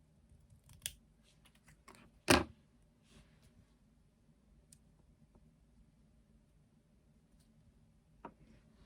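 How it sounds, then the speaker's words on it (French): Scissors snip paper for a handmade scrapbook card in a quiet room, a few crisp cuts with one loud close snip, then sparse small handling clicks. "Donc, je vais couper"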